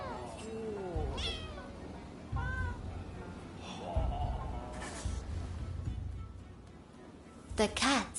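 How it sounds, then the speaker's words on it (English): Rescued cats meowing in the video game Rise of the Ronin, several rising and falling mews spread across the scene, fairly close, over a steady low game ambience with a short burst of bright meowing near the end. "The cats you have rescued are doing very well."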